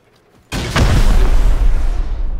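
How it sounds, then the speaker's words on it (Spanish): After a brief quiet moment, a loud rocket explosion in the game Rust bursts out and rolls into a heavy, rumbling roar that holds until the end. "deja de tirar cohetes que me tiembla la máquina"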